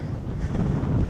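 Strong wind on open moorland buffets the microphone in a steady, low rumbling roar, with no other sounds coming through.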